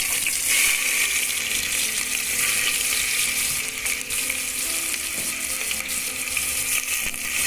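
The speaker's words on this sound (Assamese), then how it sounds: "তেল গৰম হৈ গৈছে। এতিয়া মই ইয়াতে পিঁয়াজখিনি দি দিম।" Chopped onions hit hot oil over a high gas flame, giving a loud, dense, continuous sizzle up close with no one speaking.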